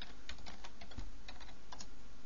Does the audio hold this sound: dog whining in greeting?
no